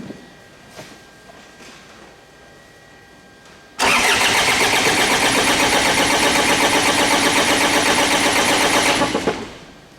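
A Ford Ranger engine with a no-start fault cranks loudly and steadily for about five seconds without catching, the starter's rhythmic churning close and continuous, then stopping abruptly.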